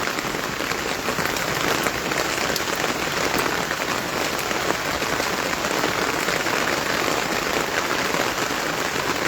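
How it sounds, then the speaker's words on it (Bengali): Steady, dense rain falls on a rooftop garden, a continuous close hiss of drops spattering surfaces with no pauses across the whole stretch. "এত সুন্দর বৃষ্টি হচ্ছে"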